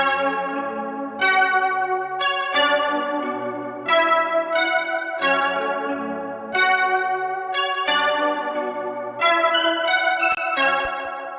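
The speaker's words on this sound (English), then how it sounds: "the sound of them is chorus. And I had a chorus on the channel and I didn't like it." Chorus effect on a bell-like keyboard chord progression in a beat, steady repeating chords with a shimmering, doubled wash and echoing tails, loud and close with no talking.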